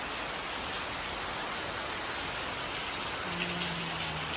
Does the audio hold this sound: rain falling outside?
yes